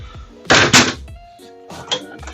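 A pantry cabinet door in a 2023 Newmar Ventana motorhome thunks open with a couple of solid knocks, followed by quieter clicks and a faint tone, nearby in a small room.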